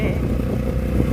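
Tricycle motorcycle engine running close by, with a loud continuous low rumble and a little clatter, while voices talk faintly underneath.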